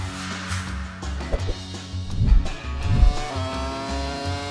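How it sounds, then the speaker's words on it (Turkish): A turbo jet-powered go-kart races past with a rough, loud engine roar that swells in two close surges and then fades into a steady mechanical drone, with no voices. "2 numara, Turbo Go-Kart"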